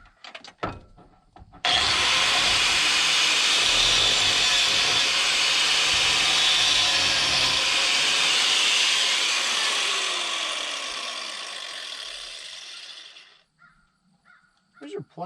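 An angle grinder cuts through rusted hose clamps under a 1994 Isuzu cab-over truck. It gives a loud, steady high-pitched whine for about twelve seconds and fades out, with brief speech before and after.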